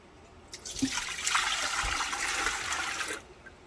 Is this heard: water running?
yes